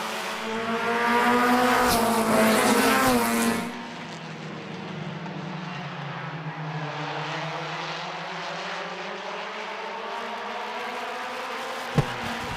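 Race cars at Midvale Speedway battle during a five-lap-old heat race, engines roaring loudly as a pack sweeps past, then fading into a sustained, wavering drone from cars circling farther off.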